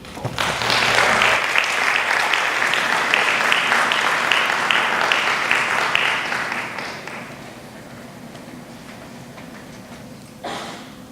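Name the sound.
audience applause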